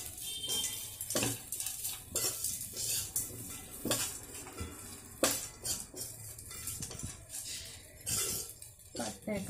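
Flattened rice pulihora with its tempering gets stirred in a pan, a spoon scraping and clinking against the metal in uneven strokes, with someone talking quietly over the cooking.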